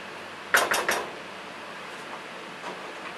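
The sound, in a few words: stirring baked beans in a pot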